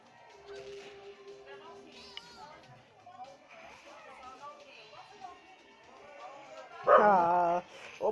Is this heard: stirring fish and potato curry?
no